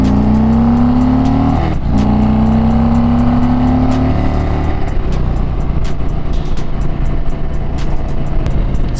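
An Indian Springfield cruiser motorcycle engine revs up and holds a smooth, steady drone, rising in pitch, then settles into a rumbling idle with rapid ticking pulses.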